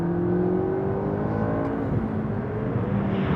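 A McLaren 650S engine accelerating hard, its steady rising roar and whine continuous and close throughout, with no talking over it.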